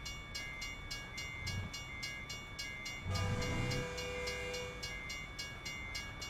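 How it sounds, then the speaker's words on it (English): A train rolls through a truck-driving simulation game, its steady rumble and clatter running throughout with periodic clicking, swelling louder midway as the cars pass close. "Train coming through."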